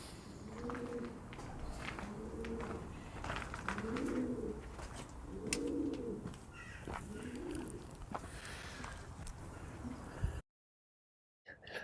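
Feral pigeons coo in the ruins of Kenilworth Castle, a series of soft repeated rolling coos close by, with faint footsteps and background rustle.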